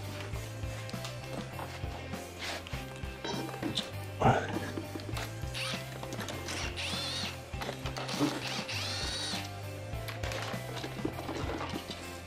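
A tool ratchets and clicks in repeated bursts while screws are backed out of the battery and kickstand of an Inmotion V14 electric unicycle, with occasional metallic knocks close up.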